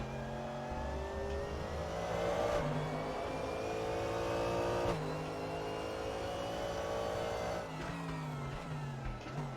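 Race car engine in the sim racing game RaceRoom drones steadily and loudly throughout, revving and easing off through a hairpin with gear shifts and tonal whine, alone with no talk.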